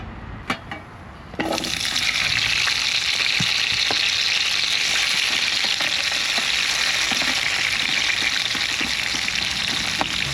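Cooking oil frying in a pan inside a car for ampalaya, a few soft knocks, then a sudden loud rush of hissing sizzle that holds steady to the end.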